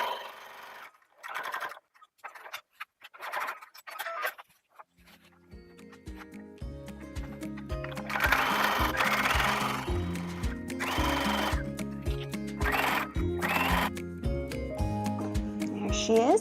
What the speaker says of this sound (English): ready to be machine sewn onto the perimeter of my